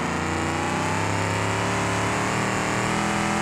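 Police car engine in the driving game BeamNG.drive, a steady droning hum with a layered harmonic tone, loud and continuous with no talk over it.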